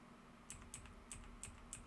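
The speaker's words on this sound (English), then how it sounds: "you can probably barely hear the clicks that I'm clicking on my keyboard right now" Keys click on a computer keyboard in a handful of sharp, separate taps about a third of a second apart, soft and a little distant over a low steady hum, with no voices.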